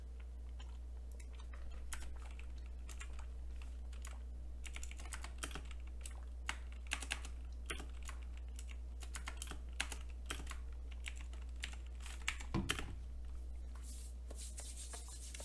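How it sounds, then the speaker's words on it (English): Keys on a computer keyboard clack irregularly as someone types one-handed, sparse uneven taps over a low constant hum, with no speech. "Typing one-handed does not work."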